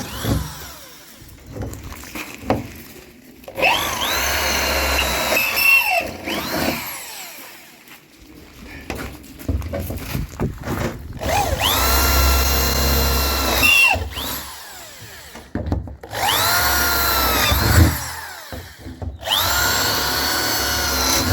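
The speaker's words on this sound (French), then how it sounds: "Il n'y a plus qu'à retourner la caisse et la percer." Power drill boring holes through a salvaged crate during a camper van conversion, several loud whining bursts that rise and stop, separated by quieter pauses with handling noise.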